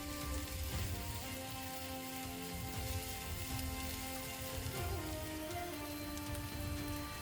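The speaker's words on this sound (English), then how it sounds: "first we'll stir fry the vegetables" Continuous dense sizzling of onion and bell pepper stir frying in olive oil in a frying pan over high heat, steady and close with no talking.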